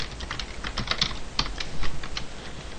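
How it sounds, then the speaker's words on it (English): Typing on a computer keyboard while programming, a quick irregular run of close clicking keystrokes over about three seconds. "If I can actually manage to type correctly."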